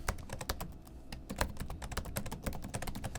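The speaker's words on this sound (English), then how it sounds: "let's give the keyboard a try" Fingers type on a laptop keyboard with a numpad, a quick, steady run of close, soft key clicks without pause and no talking.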